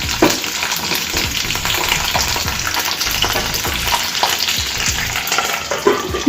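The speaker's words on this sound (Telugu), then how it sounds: "మధ్య మధ్యలో కలుపుతూ ఉంటే మనకు అడుగంటకుండా ఉంటాయండి." Indian gooseberries cook in a hot pan while being stirred. A loud, steady sizzle runs throughout, with scraping stir sounds over it. No speech.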